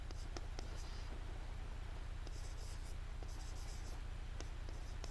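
A pen writes a mathematical formula by hand on paper, making faint, continuous scratchy strokes with occasional sharp taps over a low background hum.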